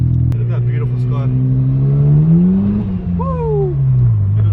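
A Mazda FD RX7 rotary engine revs hard as the car slides sideways. The loud, close engine note climbs steadily, dips briefly, then rises again, with a short tyre squeal near the end.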